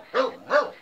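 A dog on a farm gives two quick, sharp barks close by, evenly spaced and loud against a quiet background.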